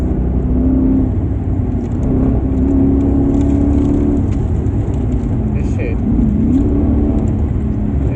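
A straight-piped Dodge Charger R/T engine rumbles steadily nearby with a low droning whir and slight rises in revs, while someone talks over it.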